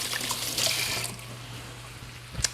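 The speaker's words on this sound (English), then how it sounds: "I'm gonna wash my hands after the bacon" Tap water runs softly into a kitchen sink while hands are washed after handling raw bacon, a faint, steady trickle with a few small splashes near the end.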